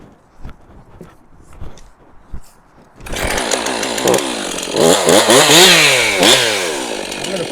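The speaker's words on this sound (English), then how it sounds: "let's fire up this 362 for one last cut" A STIHL MS 362 chainsaw is handled and pulled, then starts with a sudden loud roar and revs hard while cutting wood, its pitch rising and falling as the chain bites.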